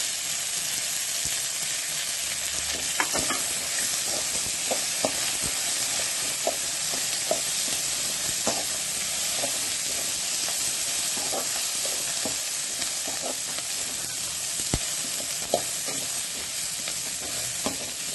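A handful of washed curry leaves spits and crackles in hot oil in a pan, a steady sizzle with sharp pops and the occasional scrape of stirring.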